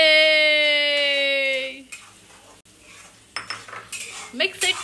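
A long pitched tone fades out, then metal utensils clink and scrape against a cooking pot in irregular bursts as egg is mixed into dal tadka, close by with a soft background hum.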